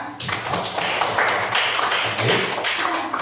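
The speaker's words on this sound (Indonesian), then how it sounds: "Tepuk tangan semuanya." A school audience claps for a presentation on positive school culture, a dense, steady patter of many hands that keeps going throughout, with no talk over it.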